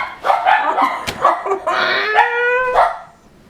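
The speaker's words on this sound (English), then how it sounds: "Dogs are going to bark." Dogs bark, yip and whimper close by in a home as someone arrives, a quick burst of excited barks rising into a drawn-out whining howl before it fades.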